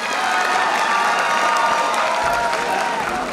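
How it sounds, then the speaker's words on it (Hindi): An audience at the Gyanotsav 2025 event in Bikaner applauds Manoj with loud, sustained clapping and some crowd noise, filling the room throughout. "जोरदार ताली मनोज जी से हो जाइए"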